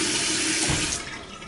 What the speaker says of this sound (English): You gotta make sure the sponge is rinsed and thoroughly squeezed.